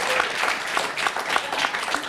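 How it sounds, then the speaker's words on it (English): An audience at a talk on economic freedom with Mike Pence breaks into brief applause, fairly dense clapping at moderate distance, steady for the short span. "Could you give her another round of applause?"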